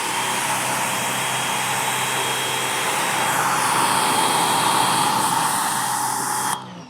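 Water from a hose sprays steadily over a brand new Mazda CX5 during a wash, rinsing off iron remover: a constant loud, close hiss that holds evenly for several seconds and then cuts off abruptly.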